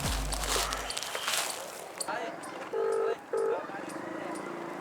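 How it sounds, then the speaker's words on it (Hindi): A phone being dialed: two short electronic keypad tones follow some rustling handling noise, with faint sounds in the background. "1 मिनट फोन लगाता हूँ।"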